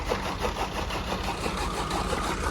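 A tractor engine runs steadily nearby, a loud rumbling drone that continues without pause.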